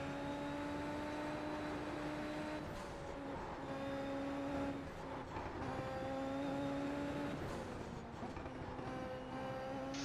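A Super Formula race car engine in iRacing at the Nordschleife whines at high revs, its pitch rising and dipping through gear changes and throttle feathering, steady and continuous with no talk.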